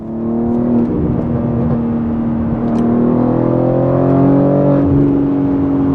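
A BMW G80 M3 / G82 M4 S58 engine revs and rumbles close by with an aftermarket exhaust, its deep exhaust note rising and falling with a throaty growl.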